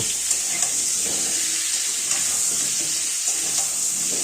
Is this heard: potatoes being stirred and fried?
yes